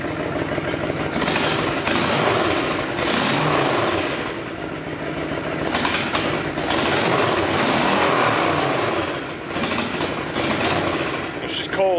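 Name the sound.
Honda VTX motorcycle engine running with drilled-out exhaust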